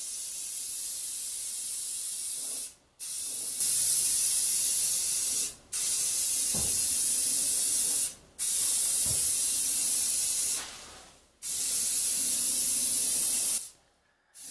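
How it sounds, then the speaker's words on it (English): A spray can or spray gun lays light coats of paint on a vintage garden tractor, a loud continuous hiss running in long passes of several seconds, broken by brief pauses. "I'm not laying paint on heavy. I'm using very light coats, and I'm going to do it the same way for the next two coats."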